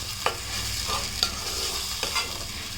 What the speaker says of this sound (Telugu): ఒకసారి అదంతా కూడా మనం యాడ్ చేసేసుకొని కలుపుకుందాం ఒకసారి